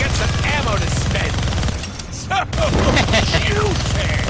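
A minigun in the Deadpool game blazes in a continuous roaring stream of gunfire, dropping briefly in the middle, then resuming loud and dense, with game voices and effects chattering over the top.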